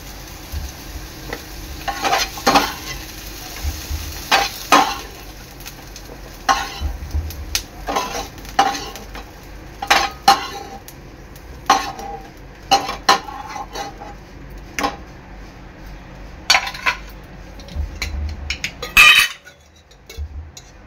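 A spatula scrapes and clinks against a pan while sautéed capsicum and onion are lifted out, with repeated metallic knocks and stirring scrapes over a faint background sizzle, and no voices.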